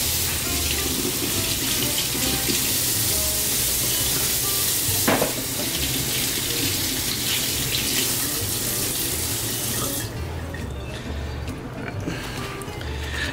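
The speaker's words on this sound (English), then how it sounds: "Now I like to rinse my pork chops" Tap water runs steadily into a kitchen sink while raw pork chops are rinsed under it, a continuous close splashing hiss with brief shifts as the meat is moved.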